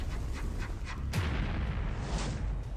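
Explosions from footage of an Indian military strike on Pakistan, with a heavy rumbling blast around the middle and further distant booms under a steady roar.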